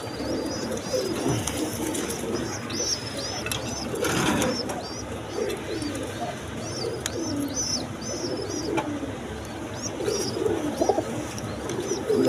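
Large pigeons kept for sale, including Raj Golla and other breeds with squabs, coo in repeated soft rolling phrases throughout, close by, over a steady background of rustling and faint chirps.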